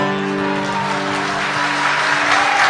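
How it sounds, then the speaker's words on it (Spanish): Audience applause after a gaucho-style recited verse with guitar accompaniment at a public event in Formosa, a steady dense clapping wash under sustained guitar or instrumental tones throughout. "Fuerte los aplausos para el joven José María Jara"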